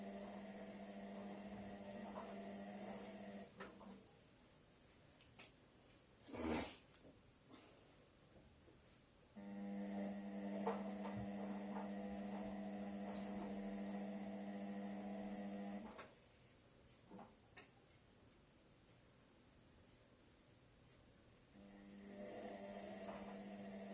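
A washing machine on its final spin with towels, set to 1000 rpm, hums quietly in tonal bursts that start and stop, separated by soft thumps and near-silent pauses.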